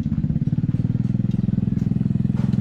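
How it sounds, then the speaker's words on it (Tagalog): A motorcycle engine runs nearby with a steady, throbbing pulse as the bike arrives. It is loud and continuous, with faint background noise. "Narinig ko na yung kanyang motor."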